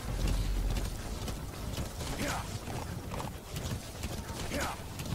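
A horse gallops in Metal Gear Solid V: The Phantom Pain, a steady rapid clip-clop of hooves running continuously under a steady background of game sound, with talking over it.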